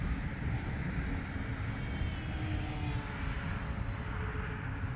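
An E-flite Decathlon RC airplane 1.2 m makes an easy pass at under three-quarter throttle, its electric motor giving a steady, moderately loud drone with wind noise that holds level for the whole stretch.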